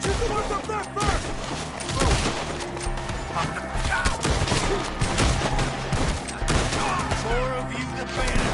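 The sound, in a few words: gunfire in Red Dead Redemption 2 video game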